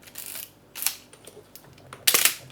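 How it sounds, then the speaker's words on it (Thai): Three crisp mechanical clicks spaced apart, the last one the loudest, as a 135 film camera's shutter fires in a quiet room. "โอเคชัตเตอร์ยิงได้ แสดงว่าเอาไปได้"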